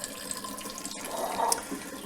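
Water runs steadily from a home water filter system that filters fluoride, a continuous close splashing flow with a brief surge near the middle and no talk.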